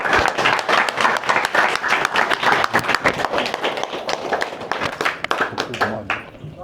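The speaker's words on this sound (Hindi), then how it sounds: "एक बार तो जो तगड़ी ताली हो गई।" Sustained audience applause at a Sunday satsang, loud, dense clapping from a crowd filling the room throughout, tapering slightly near the end.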